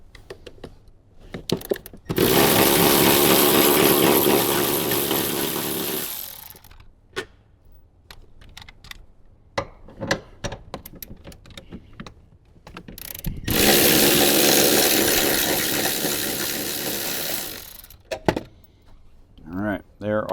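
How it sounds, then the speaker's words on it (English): A ratchet with a 14mm socket loosens the seat bolts in a Toyota Tundra, giving two sustained, loud mechanical whirring runs of a few seconds each, separated by quieter handling clicks and knocks. "So we're going to grab our 14mm socket. We're going to start with the 2 front seat bolts"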